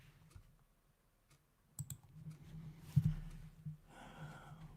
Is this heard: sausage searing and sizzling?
no